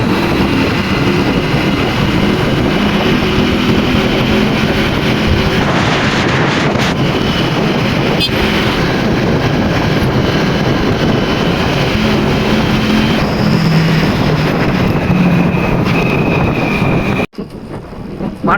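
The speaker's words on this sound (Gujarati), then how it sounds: "વરસાદ ચાલુ થઈ ગયો છે અને પવનની સસડાટી બોલે છે" Steady, loud rush of wind buffeting the microphone, with rain, while riding over the Olpad bridge near Surat; continuous roar with no talk, dropping out briefly near the end.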